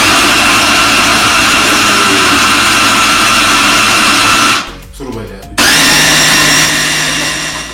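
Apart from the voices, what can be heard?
blender running while making tofu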